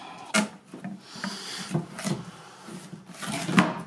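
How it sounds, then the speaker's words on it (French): A plastic guillotine door slides into its slot on an Easy Jardin 500 worm composter, giving several soft scraping and knocking rubs with light thumps, close and fairly quiet. "et insérer la porte guillotine"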